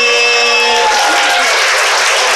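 At a youth poetry slam, an audience breaks into loud, dense applause with scattered cheers, starting over fading music and holding strong throughout the brief burst.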